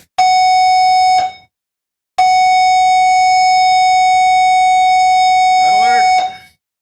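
A ship's emergency alarm sounds as two long, loud, steady electronic tones, a short blast then a longer one after a brief gap, with a voice briefly heard under the second tone.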